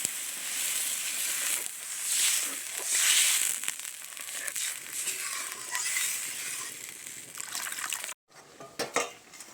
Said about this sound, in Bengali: এবারে আমি এখানে জল দিয়ে দিচ্ছি সেদ্ধ হবার মতো।